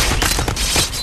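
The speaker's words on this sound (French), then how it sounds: "Encore l'explosion, ça continue." Explosion sounds inside the Happy Wheels video game: a loud, dense run of rapid bursts and blasts that keeps going for about a second, like a crackling volley of detonations.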